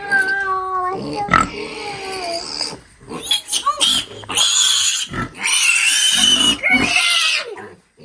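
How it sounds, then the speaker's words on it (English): Piglets squeal in shrill, pitched bursts while pigs grunt close by on a farm, the calls loud and nearly continuous with brief gaps. "Mama jumps up on the door when the piggies squeal."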